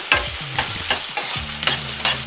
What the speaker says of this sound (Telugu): ఈ ఆనియన్స్ కొంచెం ట్రాన్స్పరెంట్గా అయ్యేంత వరకు వేయించుకున్నాము